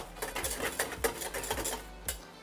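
A spoon or whisk scrapes and clinks against a saucepan while pastry cream for chocolate éclairs is stirred, with quick uneven strokes up close.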